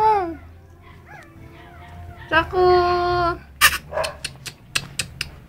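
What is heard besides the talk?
puppy whimpering and crying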